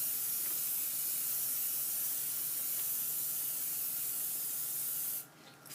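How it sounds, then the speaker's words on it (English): An aerosol-style spray of protective coating hisses onto a giclee print in one long, even, close burst that stops sharply just before the end. "I start from the outside, I coat with overlapping, do the same thing on the other side"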